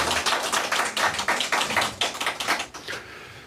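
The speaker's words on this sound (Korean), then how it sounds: "박수로 환영합시다." A church congregation at a Sunday worship service claps to welcome back a member after illness, a close, uneven burst of scattered hand claps that thins out toward the end.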